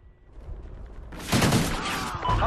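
Gunshots in the video game Call of Duty, a quiet rumble followed by a sudden loud burst of fire with sharp crackling shots, close and harsh.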